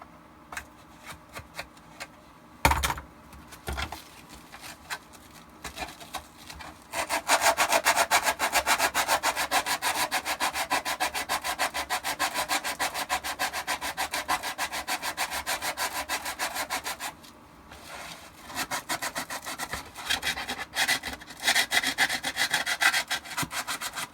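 Sandpaper rubbed rapidly back and forth on a Shadow Trooper armor part, a close, dense rasping that runs in long steady bursts with brief pauses between them.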